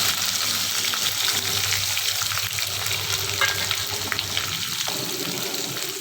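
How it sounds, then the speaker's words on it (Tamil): Sliced large onions, fennel seeds and cinnamon sizzle loudly in hot oil for prawn biryani, a dense continuous crackle with light stirring scrapes and no talking. "சோம்பு, பெரிய வெங்காயம் கட் பண்ணி வச்சுருக்கோம், சேர்த்துருவோம்."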